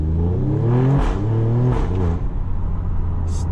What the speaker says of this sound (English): Downshifts are like amazing. Just listen to this.